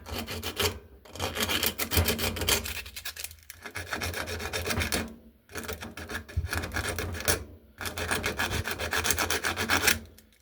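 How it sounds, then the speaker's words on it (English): Coarse sandpaper rubbed back and forth across a metal terminal before soldering, a close, loud rasping scrape in four long strokes separated by brief pauses, with no talking. "I'll take some of our coarse sandpaper here and I'll just go across our terminal like this"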